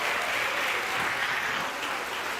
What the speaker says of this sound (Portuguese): Você pode aplaudir a ele bem forte nesta noite